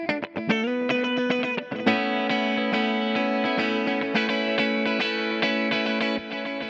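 Electric guitar played with distortion through a Kemper profiling amp with delay, loud sustained chords and notes ringing continuously with gritty overdriven tone and echo tails, alone without talk.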